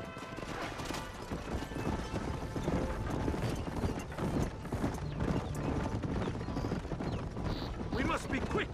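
Horses galloping in Red Dead Redemption, rapid drumming hoofbeats on dirt carrying on throughout, with a whinny and creaking tack, as voices talk over the ride.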